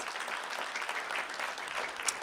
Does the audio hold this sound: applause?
yes